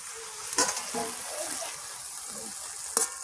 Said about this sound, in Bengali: আমি একটু জল দিয়ে ভেজে ঢাকনাটা খুলবো